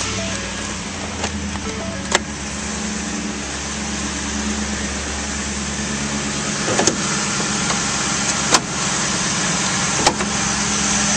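A 2011 Ford F-150 Raptor's 6.2-liter V8 runs at a steady, loud idle with a deep low rumble, broken by a few sharp clicks and knocks from the cab.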